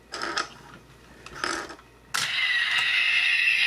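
Transformers Leader Class Sentinel Prime toy: two short mechanical clicking bursts, then a loud sustained electronic whirring effect that keeps going to the end, with no voices.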